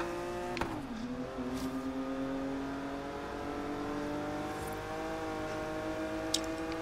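A car engine in Forza Horizon 3 revs steadily while drifting, its sustained tone climbing and holding with faint tire squeal, loud and continuous throughout.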